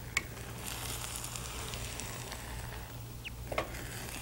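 Rice mixed with yogurt cooks in a pan over a gas flame, giving a faint, steady low sizzle with a few soft clicks and taps, no talking.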